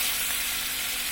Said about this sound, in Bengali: এখন আমরা এর মধ্যে কিছু পরিমাণ পানি দিয়ে দিব মশলা কষানোর জন্য।